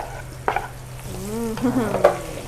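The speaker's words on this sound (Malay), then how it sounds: "minyak sedang dipanaskan untuk nak gorengkan udang" Shrimp sizzle and crackle in hot oil, with a few sharp spatters and stirring scrapes close by.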